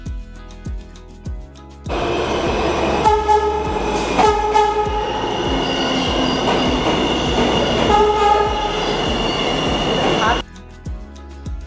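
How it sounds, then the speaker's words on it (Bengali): An American metro train pulls into a station: a loud rumbling roar with squealing wheels and horn-like tones holds for about eight seconds, then cuts off, with someone talking before and after. "চলুন আমাদেরও ট্রেনও চলে আসছে, ওই যে দেখছেন দূরে।"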